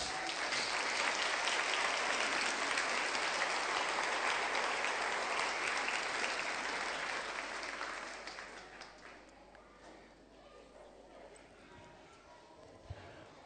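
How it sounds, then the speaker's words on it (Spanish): A church congregation applauds, with broad, steady clapping that holds loud for about eight seconds, then fades into quieter scattered claps and room noise. "Demos un aplauso a Jesús."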